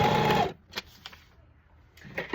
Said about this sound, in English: we're going to sew down the last end, leaving this end open, and we're going to back stitch at the end here